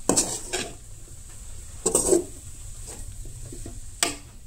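Masala with turmeric is roasted in a pan for chicken gravy, marked by a few separate metallic scrapes and clanks of a spoon against the pan, with quiet stretches between them.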